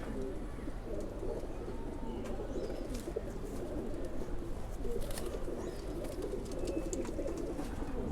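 Pigeons coo in a low, continuous, overlapping murmur of soft throaty calls, with a few faint chirps and clatters around a loft of cages.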